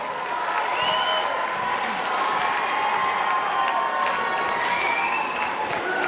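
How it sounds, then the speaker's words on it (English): Crowd at a Muay Thai fight night applauding and cheering loudly, a dense steady roar of clapping with shouts and whistles rising over it for several seconds. "How about a big round of applause for these two lads?"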